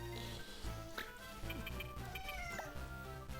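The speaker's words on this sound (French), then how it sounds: "Qu'est-ce qu'il y a, gros chat? Qu'est-ce que tu veux?" A cat meows a few times during a Final Fantasy Tactics Advance game session on the Game Boy Advance, the calls sitting over a busy layer of game music and sound effects.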